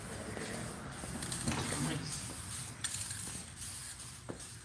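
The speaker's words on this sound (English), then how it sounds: "there are some good nozzles in some of the paint cans we bought that actually spray" A spray paint can hisses out orange paint in several short bursts and a few longer blasts, close and moderately loud, with people talking nearby.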